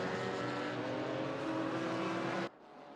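GT4 race car engines in Assetto Corsa Competizione at Imola drone steadily at high revs, a loud sustained roar that cuts off abruptly near the end to a quieter hum.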